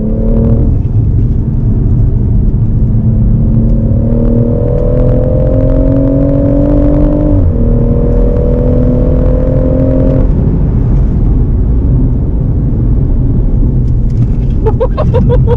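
A BMW M140i hot hatch driving on Llandow Circuit, its engine droning loudly and steadily up and down through the gears with clear rising and falling pitch sweeps, heard from inside the car.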